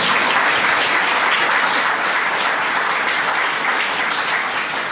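An audience at a literary talk applauds steadily and densely, a sustained even wash of many hands clapping with no voices over it.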